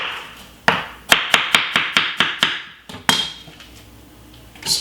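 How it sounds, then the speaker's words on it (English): A knife chops watermelon on a board: about ten sharp, evenly spaced thuds in quick rhythm, close and loud, with a short pause before a final cut. "So once you cut up your watermelon,"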